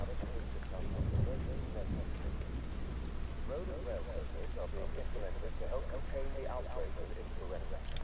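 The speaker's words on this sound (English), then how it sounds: "Forgot about the rain." Rain falls steadily with a low rolling rumble of thunder in the video game Everybody's Gone to the Rapture, a continuous hiss under faint voices murmuring in the background.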